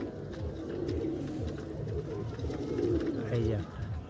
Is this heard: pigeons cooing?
yes